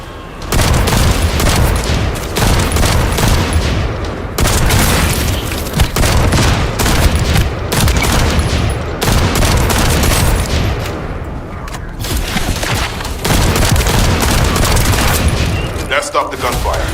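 Dense gunfire and booming explosions from the sci-fi shooter game The First Descendant, loud bursts and rapid automatic fire pounding almost continuously with brief lulls, with speech mixed in at times.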